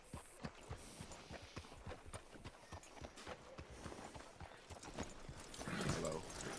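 A horse's hooves clip-clop at a steady walking pace in Red Dead Redemption 2, a string of distinct thuds on hard ground, fairly quiet and close, with a voice and rustling rising near the end.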